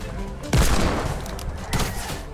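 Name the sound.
gunshots in a video game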